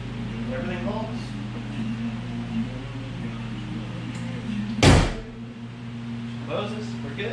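A 2005–2010 Honda Odyssey hood, fitted with an upgraded support replacing the prop rod, is lowered and shut with one loud, sharp slam midway through, over a steady low engine-bay hum and some talk.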